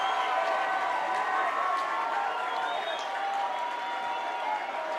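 A big crowd at a high school baseball game, a steady roar of cheering and clapping that stays loud and even for several seconds, with no clear talk over it.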